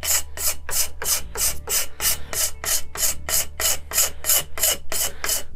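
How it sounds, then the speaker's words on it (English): A scraper is drawn repeatedly along a yew longbow stave in an even rhythm of about a dozen short, raspy strokes, close and clear with no talk. "So we can probably afford to remove a bit more, which I'll do with the scraper."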